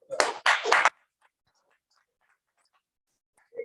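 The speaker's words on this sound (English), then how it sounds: "And when you do well, we clap for you." A small audience at a Toastmasters club meeting claps its hands in a short burst of applause, two quick rounds of clapping close by, then near silence.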